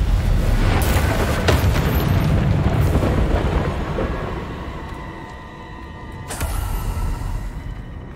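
Spell blasts in Hogwarts Legacy, fire and explosive curses, burst in heavy booming waves with a dense roar that fades midway and then swells again with a fresh impact, loud and close with no talk.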